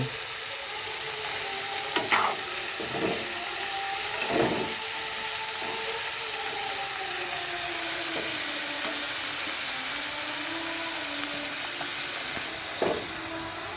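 Wedding-style fried rice with egg sizzling in a pan, a steady close hiss of frying broken by a few sharp clatters of stirring, with no talk.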